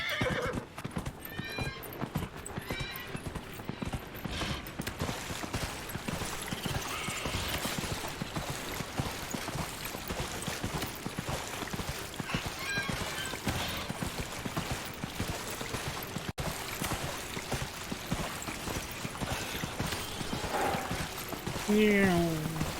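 Horse hooves clip-clop in a quick, steady galloping rhythm throughout a Dragon Age Inquisition game scene, close and continuous under a rain-like hiss, with an occasional neigh or whinny breaking through near the end.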